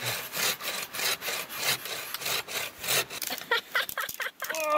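A hand saw cuts through wood in steady back-and-forth strokes, each rasping pass rising and falling in a regular rhythm, close and loud, with a few lighter scraping sounds near the end.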